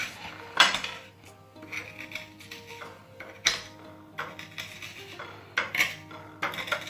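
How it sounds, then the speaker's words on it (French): Metal spoon breaking food into crumbs in a dish, close, light clinks and scrapes in irregular taps against the bowl. "Et je viens casser avec une cuillère."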